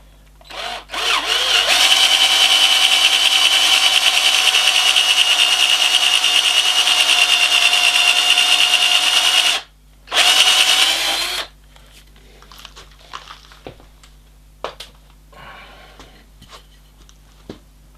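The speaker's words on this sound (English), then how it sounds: "Having established a centre, I'll now drill that and mount it on the screw chuck on the lathe." A power drill cuts a centre hole into an oak blank in a woodturning workshop: a loud, steady whirring run of about eight seconds, a brief stop, a short second burst, then quiet with a few light knocks.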